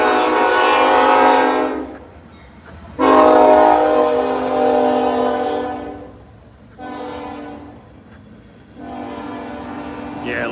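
A train horn sounds in several long, loud blasts with short gaps between them, over a low rumble of a train moving along the tracks in falling snow.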